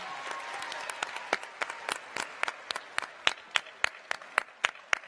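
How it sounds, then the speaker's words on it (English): Audience applauding at a school assembly at Lake Braddock, a steady wash of clapping with sharper individual claps growing louder and more distinct toward the end, no talking over it. "Give her a big round of applause."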